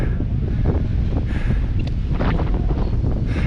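Steady wind buffeting the microphone in Chamonix, a constant roaring rush throughout with no pauses.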